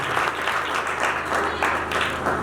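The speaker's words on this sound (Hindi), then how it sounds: "अपने लिए जोरदार ताली बजाएं" Sustained, dense applause from an audience at a talk, steady and fairly loud throughout with no speech over it.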